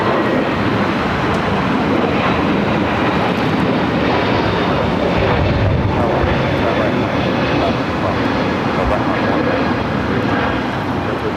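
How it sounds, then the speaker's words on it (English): A Turkish Airlines jet taxis at LAX, its engines producing a loud, steady broadband roar that holds nearly constant throughout, with wind buffeting mixed in. "As Turkish continues its taxi down taxiway Bravo, heading to 25 right."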